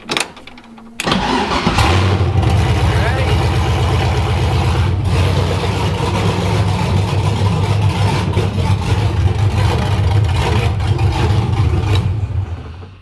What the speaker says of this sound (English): Like, the E36 just spun the tires.